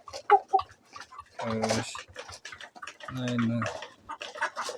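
Chickens and roosters in a farm coop, with scattered clucks and a couple of longer crowing calls, while a person speaks nearby.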